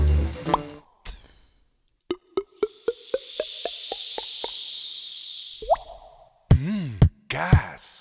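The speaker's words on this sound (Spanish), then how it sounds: "Su burbuja es crujiente, delicada, sorprendente." Sparkling Solán de Cabras water fizzes and crackles. A sharp opening pop comes first, then a quick series of plopping drips and a sustained bubbly hiss, and a few louder squishy sounds close the clip.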